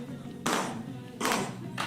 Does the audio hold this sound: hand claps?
yes